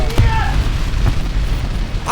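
A heavy tank cannon booms as a Maus fires a shell in a video game, one loud blast near the start followed by rumbling echoes and a second dull thud, under a continuous low engine rumble.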